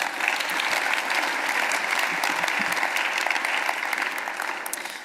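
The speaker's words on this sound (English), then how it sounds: "That deserves a round of applause in itself." Conference audience applause at a women achievers congress, a dense sustained clapping from a large crowd, loud and even throughout with no talk over it.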